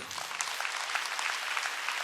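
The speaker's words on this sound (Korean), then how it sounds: "박수 쳐줘요." A church congregation at a summer mountain revival service claps, a fairly quiet but continuous patter of hands lasting a couple of seconds.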